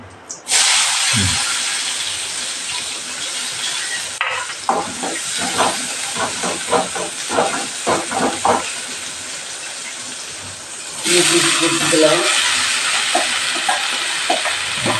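Mustard seeds, urad dal and onion frying in hot oil in a home kitchen give a loud, continuous sizzle and hiss, with a burst of crackling pops in the middle and a fresh surge of sizzling later.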